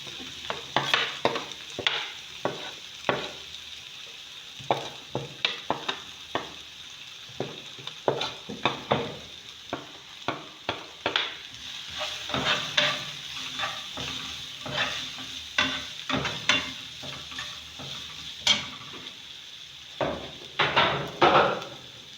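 Spices being stirred and fried in a pan for meat pie filling, a soft sizzle broken by repeated scraping spoon strokes against the pan, close and fairly quiet.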